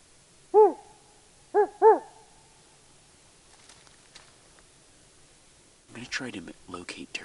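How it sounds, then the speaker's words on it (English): Owl hooting as a locator call for turkey hunting: three clear, resonant hoots, a single one followed by a quick pair, then quiet before a burst of voice-like sound at the end. "One could just be like an owl hoot or a turkey gobble."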